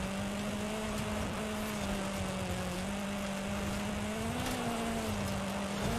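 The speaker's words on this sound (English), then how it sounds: "I really don't like the sound of this turbo rally engine" A turbo rally engine in a GRC Honda Civic races a gravel stage in Forza Horizon 5. It holds a fairly steady, buzzy drone whose pitch wavers slightly as it climbs, with road noise rushing beneath it.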